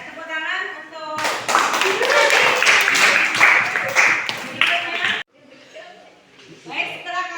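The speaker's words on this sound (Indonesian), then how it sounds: "Ya, tepuk tangan untuk" Clapping from students in a classroom, a burst of applause that starts abruptly and runs for about four seconds, then stops, followed by quieter murmuring chatter.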